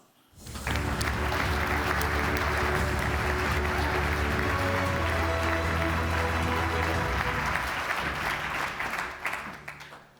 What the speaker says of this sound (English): Faiz, this is your applause.